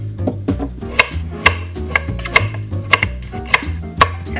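Carrots being chopped very finely for fried rice, a knife striking a cutting board in a fairly steady run of sharp, close, loud taps with no voices over them.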